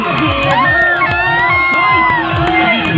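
A large crowd at a live stage show in Navapura cheers and shouts loudly and continuously, with many overlapping high voices forming a dense, unbroken roar.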